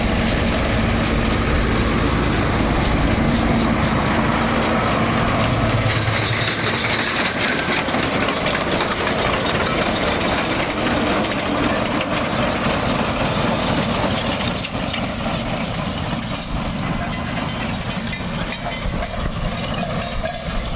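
A tractor engine runs loud and steady while collecting grass for silage, a heavy mechanical roar that continues throughout with shifting rattles and no voices.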